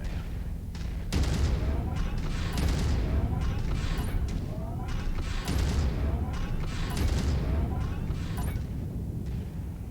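Mech weapons in MechWarrior 5 fire in dense, overlapping bursts that keep up a heavy, rumbling barrage, with sharp blasts punching through at intervals.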